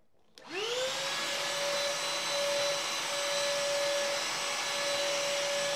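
A vacuum cleaner switches on with an abrupt whoosh, its motor whine rising quickly in pitch and then settling into a loud, constant drone that continues without pause.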